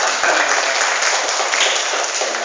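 An audience at an Indonesian ustaz teaching training session breaks into applause, a dense, loud burst of many hands clapping that holds steady for the whole couple of seconds.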